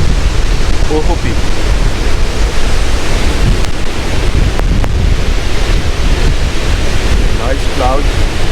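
Surf and strong wind at Ohope Beach, New Zealand: a steady, loud roar of breaking waves mixed with gusty wind buffeting the microphone, continuous throughout with no clear breaks.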